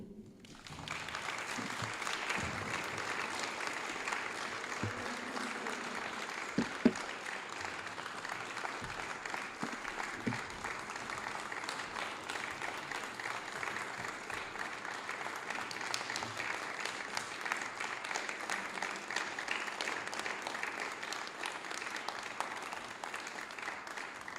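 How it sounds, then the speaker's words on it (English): An audience at a palaeontology award ceremony gives sustained, even applause for the 2022 Louis De Pauw laureate, a steady moderate wash of clapping lasting throughout. "Please give a warm round of applause to Mr. Frederik Mollen."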